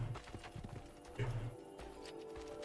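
Horse hooves clip-clop in Assassin's Creed Brotherhood, a quick uneven run of close hoofbeats followed by a couple of heavier steps, with faint game ambience behind them.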